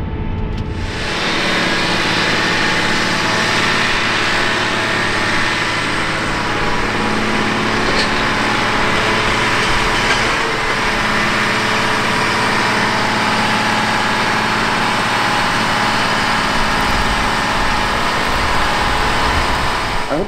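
John Deere 8RX 410 fixed-frame track tractor running steadily while planting corn with a DB60 planter, a loud continuous engine drone heard from inside the cab, with no talking.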